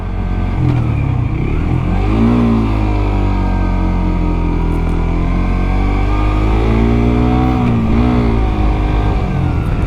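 A car engine drones steadily and loudly up close, straining with a rising pitch as it climbs, with no other sounds over it.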